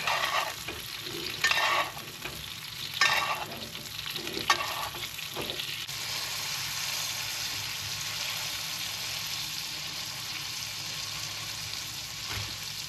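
Steak basting in a hot pan with rosemary and garlic, close crackling sizzle with repeated spoon scrapes and splashes early on, then a steady frying hiss, no voices.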